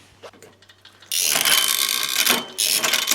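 A Suntour VX bicycle derailleur shifts on a never-assembled 45-year-old bike, giving a sharp ratcheting click burst that turns into a loud, sustained mechanical whir, breaks briefly, then resumes.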